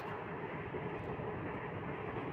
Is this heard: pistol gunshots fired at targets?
no